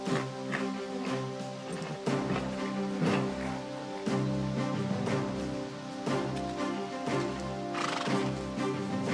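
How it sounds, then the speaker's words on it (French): Horses whinnying as hooves clip-clop, with repeated neighs and steady hoofbeats sounding close and clear in a continuous stretch, and no voices. "Il faut qu'on selle nos chevaux."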